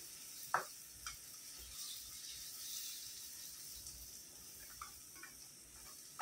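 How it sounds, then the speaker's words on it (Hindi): A spoon scrapes and clinks in a pan while fish curry is stirred and mixed, with a soft sizzle underneath and a few sharp, close taps scattered through the quiet cooking sounds. "अभी इसको मिक्स करेंगे।"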